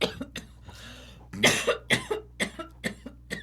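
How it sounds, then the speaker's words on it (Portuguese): A person coughs repeatedly, a burst of heavy coughs followed by a string of shorter, evenly spaced ones, close and clear. "Só um é minutinho, deixa eu tossir aqui."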